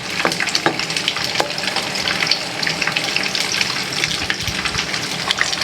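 Egg is stirred into a tomato sauce frying in a pan, giving a continuous loud bubbling sizzle with scraping and sloshing from the stirring, close and unbroken, without any voices.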